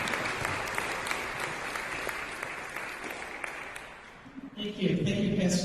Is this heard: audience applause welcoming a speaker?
yes